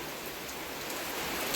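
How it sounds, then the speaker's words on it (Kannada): Steady rain falls in a flooded native village, a dense, even hiss of drops on surfaces that holds at a constant level throughout, with no voices. "ಸ್ಟಿಲ್ ಮಳೆ ಬಿಡೋಂಗಿಲ್ಲ."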